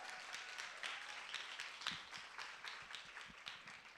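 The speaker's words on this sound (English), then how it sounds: "let's give them another round of applause" Faint, distant applause of scattered hand claps from a small crowd at an Indian classical music showcase, steady for a few seconds without voices.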